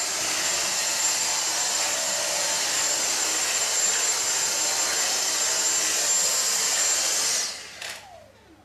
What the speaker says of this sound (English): all I need to do is finish the vacuuming